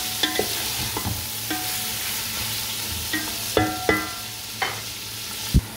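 Onions frying in a pan for a spicy kofta karela dish, a low steady sizzle with occasional clanks and scrapes of a spatula, sparse and close by.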